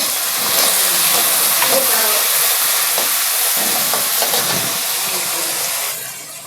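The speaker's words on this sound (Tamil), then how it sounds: "இப்போ தக்காளி கொஞ்சம் போட்டு வதக்குறோம்" Onions and tomatoes sauté in a pan for a village-style broad bean and brinjal curry, a steady close sizzle and hiss with occasional stirring scrapes that fade near the end.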